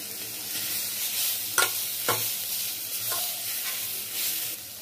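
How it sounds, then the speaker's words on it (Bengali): Turmeric, cumin and chili powder frying in a pan for masoor daal, a steady close sizzle broken by two or three soft stirring scrapes, no talking. "হলুদ, জিরে আর লঙ্কার গুঁড়ো এর মধ্যে আমি দিলাম। এগুলোকে আরেকটু কষাবো।"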